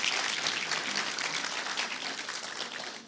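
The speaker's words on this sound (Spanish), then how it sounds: "Vamos a darle un aplauso a las mujeres de vida eterna." An audience at an event applauds steadily, a dense wash of clapping from many hands that tapers off slightly toward the end.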